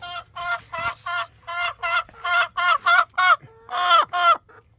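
A chicken clucks loudly and close, in a rapid series of about a dozen sharp, separate calls with short gaps, louder bursts toward the end.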